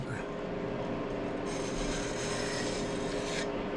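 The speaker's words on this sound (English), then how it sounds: "this is how you sharpen it on this edge, both sides" A sharpening tool rubs steadily along the hollow ground edge of a metal lathe part, a continuous close scraping rasp throughout, faint and without pauses.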